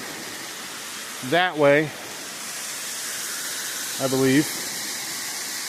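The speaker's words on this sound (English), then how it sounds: "Beautiful waterfall." Steady broadband rush of a waterfall near Bays Mountain, reached by a short woodland hike, roaring continuously at close range while someone speaks briefly twice over it.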